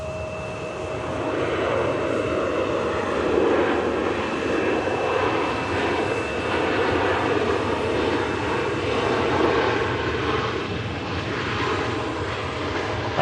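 Ryanair jet airliner arriving at Manchester Airport, a steady loud engine roar holding for the whole stretch with a faint whine above it, no voices.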